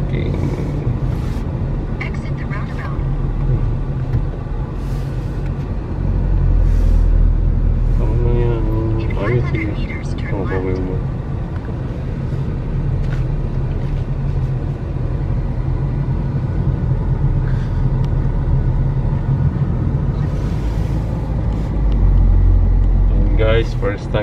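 A car on a summer road trip from Al Ain to Ruwais gives a steady low engine and road rumble heard from inside the cabin throughout, with occasional voices and background sounds over it.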